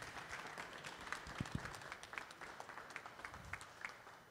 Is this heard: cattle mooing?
no